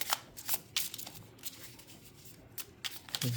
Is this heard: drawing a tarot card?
yes